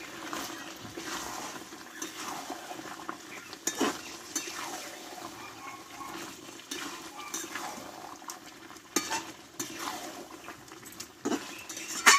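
Chicken and potatoes are stir-fried together in a pan with ground spice paste, producing a steady low sizzle broken by repeated scraping and clinking of a spatula against the pan.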